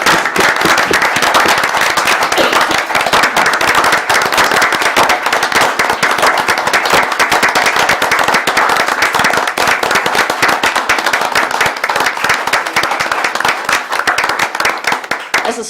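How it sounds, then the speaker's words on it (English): Sustained applause fills a city council chamber during a council meeting in Boonville, Missouri: dense, even clapping from a crowd, loud and steady throughout without a break. "Let's give them a round of applause."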